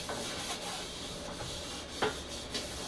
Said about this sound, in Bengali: সাবান দিয়ে আবার ঘষে দেখছি